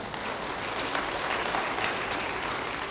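Church congregation applauding during a sermon: dense, steady clapping from many people that fills the space evenly and holds at the same level throughout, with no speech over it.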